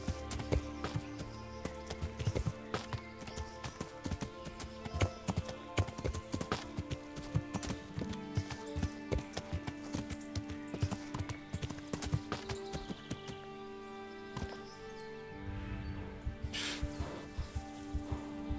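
Horse hooves clip-clop steadily and rhythmically in the video game Kingdom Come: Deliverance, a continuous trot on a hard surface layered with game ambience, fairly faint throughout.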